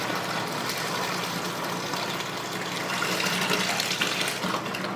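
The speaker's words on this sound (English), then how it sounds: "And I'm pouring that grape juice into my" Grape juice pours into a fermentation bucket in a steady, splashing stream, close and continuous with slight surges, and no talking over it.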